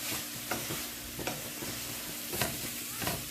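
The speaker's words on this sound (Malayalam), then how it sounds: "അപ്പോൾ ഈ അവലിൻ്റെ കളറ് ശർക്കരയുടെ കളർ ആകുന്നവരെ നന്നായിട്ടൊന്ന് ഇളക്കി യോജിപ്പിക്കാം" Rice flakes and powdered jaggery being stirred in a pan over a low flame for a traditional Kerala sweet snack, with a steady soft scraping and sizzle and several sharper spoon strokes, close and alone.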